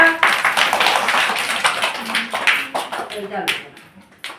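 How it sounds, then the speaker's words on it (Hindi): Children in a school entry and chalk-touching ceremony clap their hands together, a steady close patter of many small claps running under a voice that is talking. "अच्छा ताली टिके दे दियो"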